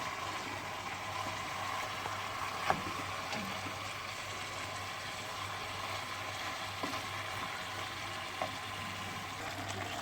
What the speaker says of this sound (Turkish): Kavuruyoruz.